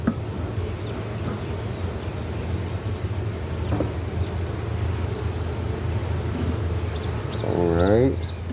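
Honeybees hum and buzz steadily around an opened hive during a split check, with a louder, closer buzz swelling near the end; people speak faintly in the background.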